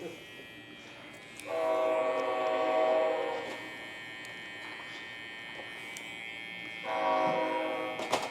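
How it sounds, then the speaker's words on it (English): A train rolls past with two long horn blasts, the first about a second and a half and the second near the end, over a steady electric hair clipper buzz during a burst fade haircut on straight hair. "Hey, there's a train, guys, if y'all didn't know."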